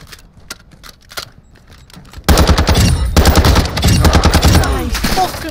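Rapid automatic gunfire in Call of Duty DMZ, first a few sparse distant shots and clicks, then a loud sustained burst of close machine-gun fire for the last few seconds.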